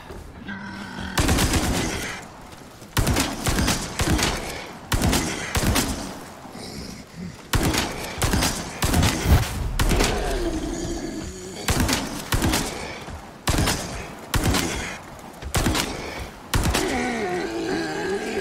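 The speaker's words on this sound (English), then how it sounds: "19 rifle rounds from the CQBR to take down the Brute" Repeated bursts of CQBR rifle fire aimed at a Brute enemy in the Resident Evil 4 Remake, loud single and grouped shots in irregular volleys with brief pauses, game effects and creature groans between them.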